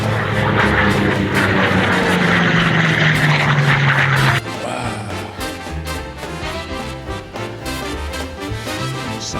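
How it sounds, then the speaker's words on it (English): A Grumman F8F Bearcat propeller fighter flies past with a loud, steady engine roar. Its pitch slides gradually lower, then the sound drops suddenly to a quieter, rougher drone. "Oh, that's the Bearcat fighter,"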